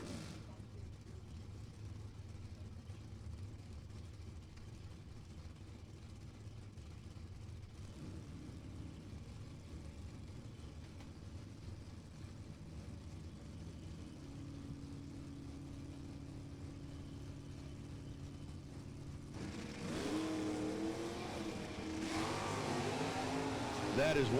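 Drag racing cars, including a 1969 SS 396 automatic, accelerate down the strip as a continuous engine roar that swells sharply near the end, heard at a distance under an announcer's commentary.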